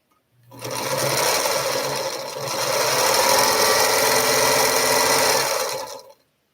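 Late at night a sewing machine runs in a small house with a continuous close whirring drone. It stitches without pause for about five seconds, dips briefly and then stops.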